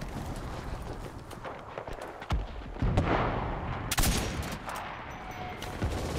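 Machine gun fire in a WWII battle game set in the Hurtgen forest, loud rattling bursts and scattered shots with heavy impacts, dense and chaotic throughout.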